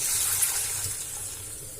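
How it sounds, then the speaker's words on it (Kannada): Half a glass of water poured into a pot of sambar with drumstick and onion pieces, a steady close splashing flow running throughout without talk. "ಅರ್ಧ ಗ್ಲಾಸ್ ನೀರು ಹಾಕಿರ್ತೀನಿ."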